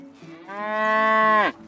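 A cow gives a single long, loud, close moo while being milked in Medieval Dynasty video game, rising and holding steady before cutting off sharply.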